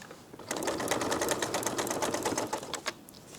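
Serger sewing machine stitching a quilt-as-you-go cover, running in a steady, rapid, buzzing chatter for a couple of seconds before stopping, close and fairly loud.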